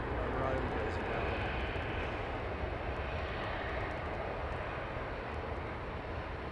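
An Aer Lingus Airbus A320 jet at Heathrow Airport produces a steady, broad engine roar throughout, loud and continuous, while people talk quietly over it.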